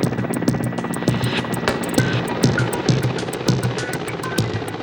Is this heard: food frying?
no